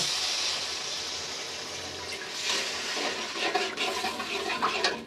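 Water is poured into cooked-down curry masala in a pan for a bhetki fish dish, a steady rush of splashing liquid that grows louder and more sputtering toward the end.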